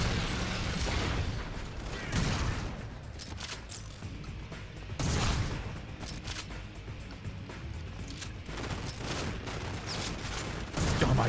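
Weapon fire in GoldenEye: Rogue Agent on the Xbox, with repeated bursts of shots and booms alongside mechanical clicks and clacks from reloading, loud peaks recurring throughout.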